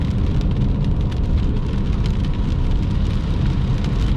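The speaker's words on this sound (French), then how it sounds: "Oh, c'est le bruit de l'eau." Heavy rain pours down during a summer thunderstorm in the Lanaudière region, a dense, loud and unbroken hiss of drops drumming on surfaces nearby.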